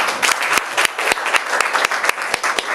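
An audience at a healing-ministry symposium applauds in welcome, a steady crackle of many hands clapping close by, with a few sharper individual claps standing out.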